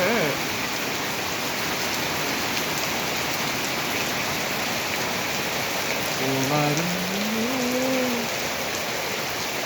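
Steady, dense night rain pours down continuously, a broad hiss close by a house's sit-out, with a brief soft voice murmuring partway through.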